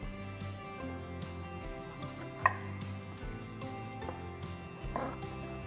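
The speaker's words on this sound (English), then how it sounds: "So from that cep, we will cut it in two." A knife cuts a cep mushroom into pieces, giving a few soft, widely spaced taps on a board, close but faint over a steady low background hum.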